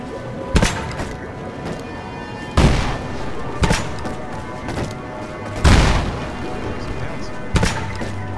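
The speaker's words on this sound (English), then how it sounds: "Let me see if I can light a torch with the grenade launcher." A grenade launcher fires in Lara Croft and the Temple of Osiris, five heavy booming shots spaced one to two seconds apart over a low hum, with some talk in the background.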